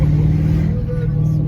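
A Lexus LS400 engine swapped to a manual gearbox hums loudly and steadily at close range through a downshift, a deep continuous drone with little change in pitch.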